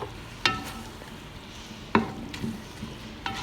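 Vegetables and sauce stir-fried in a pan for Shanghai fried rice, with a steady sizzle and a few sharp scrapes and clanks of a utensil against the pan.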